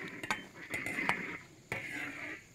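Metal wok and utensils clatter in bursts as Sichuan-style Kung Pao chicken is dished out. The clanks are sharp and close, with a steady kitchen hiss underneath and no talking.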